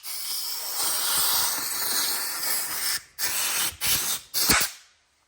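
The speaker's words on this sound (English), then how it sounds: "Air blower." Compressed air from an air blower gun hisses loudly and close, a long continuous blast followed by three short sharp bursts before cutting off into silence.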